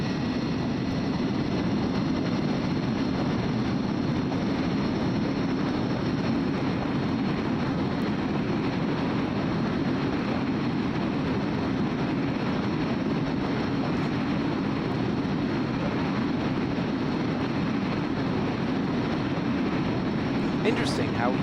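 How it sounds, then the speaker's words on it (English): Steady, loud jet roar from an MD-82 airliner's reverse thrust in Microsoft Flight Simulator 2020, a broad continuous rumble and hiss holding level throughout without a break. "It's nice how it's flying with reverse thrust."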